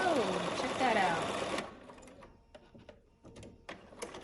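A sewing machine runs fast and loud for about a second and a half, stitching quilting lines on a fabric bag project, then stops abruptly, leaving faint handling rustles and light taps.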